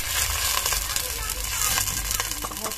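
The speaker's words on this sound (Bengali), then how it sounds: "এখন একটু পানি দিয়ে দেবো।" Water poured onto frying onions in a new clay pot over a clay stove, giving a loud, close, continuous sizzle and crackle with no voice over it.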